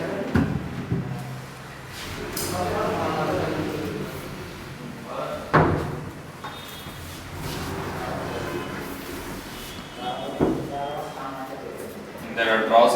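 Drawers in master bedroom furniture open and close with sharp thuds and slams at intervals. Between the knocks there are softer sliding and handling noises.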